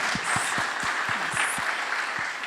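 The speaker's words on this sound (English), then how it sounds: "Big applause on that" An audience at a fireside chat with Bollywood actor Ranveer Singh applauds steadily, with rhythmic clapping and a few whistles cutting through, sustained throughout.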